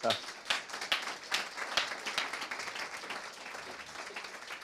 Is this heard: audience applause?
yes